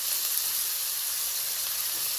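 Chopped onion dropped into hot oil with tempering spices, sizzling and hissing steadily and fairly close for about two seconds, with no voices over it.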